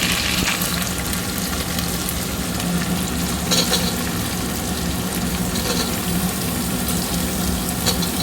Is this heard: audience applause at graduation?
no